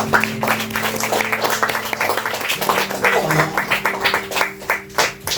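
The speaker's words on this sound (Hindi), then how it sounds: "तो प्रभु के लिए और ये पूरे टीम के लिए एक जोरदार ताली हम लोग बजा सकते हैं।" A church congregation breaks into hearty applause, many hands clapping in a dense sustained wash that rises and falls over several seconds, with a faint low hum of room sound beneath.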